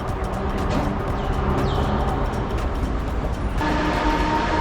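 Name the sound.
Haramain high-speed train at station platform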